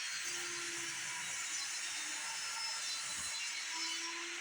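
A saw rips the rounded edges off 2x lumber to turn it into 1x stock, a continuous, fairly quiet hissing cut with no talking.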